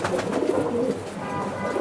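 A racing pigeon held in the hand coos in low, soft, rolling phrases, close and steady, with no talk over it.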